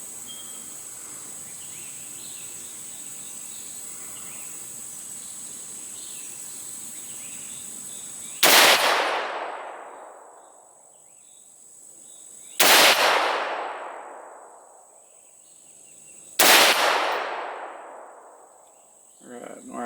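Three sharp, loud rifle shots from a PSA 223 Wylde firing Winchester Whitetail ammunition, spaced about four seconds apart, each with a long decaying echo, over a steady background of insects buzzing outdoors.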